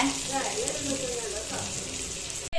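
Boothai sardine fish fry in a pan with a continuous bright sizzle and crackle, close and steady, with a voice talking over it.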